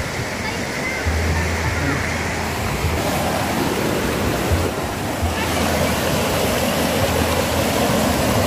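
Clear water of the Mampurong River rushes loudly and continuously nearby, with a voice speaking over it at points.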